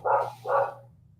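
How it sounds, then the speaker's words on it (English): A couple of dogs bark in the background, two close, full barks a beat apart followed by a fading tail, fairly faint and alone without talk. "We got a couple dogs in the background"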